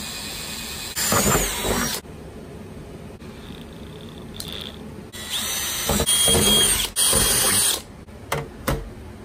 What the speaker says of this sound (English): I needed to add 2 extra holes for the TV stand.